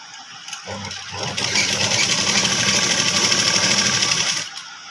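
A sewing machine running a steady double line of stitches through chudidar pant fabric, a continuous close whir that starts, holds for about three seconds, then stops.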